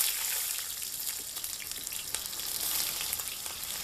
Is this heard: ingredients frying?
yes